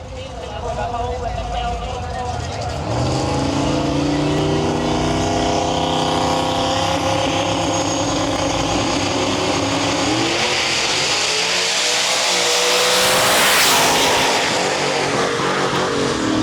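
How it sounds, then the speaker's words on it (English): A Fox Body Mustang and a 4th gen Camaro launch side by side in a drag race, engines screaming loud and close as rising harmonic tones climb through gear changes, with an announcer talking over the noise. "Fox Body in our lane, and we got a 4th gen Camaro far side of the track"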